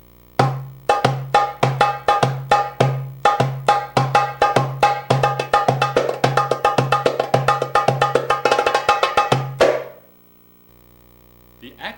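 A doumbek plays the Ayub rhythm, a steady, close pattern of deep booming strokes alternating with sharp bright slaps, then stops abruptly with a ringing tail.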